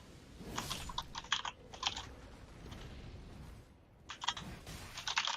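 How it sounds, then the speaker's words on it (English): Computer keyboard typing comes in quick clustered clicks, two bursts early on and another near the end, with a quieter stretch between them. The clicks sit fairly close over a low background hum. "Sorry, I've got a work thing. I'm typing."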